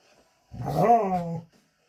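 Puppies growl and whine in one rising, voiced burst lasting about a second, close and fairly loud, with near silence before and after.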